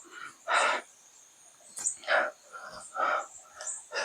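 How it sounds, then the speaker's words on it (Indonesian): An owl calls in a hillside forest in Pemalang, Indonesia, a series of hoarse, breathy hoots spaced about a second apart over a constant high insect drone, fairly close and clear. "Burung hantu bunyi loh."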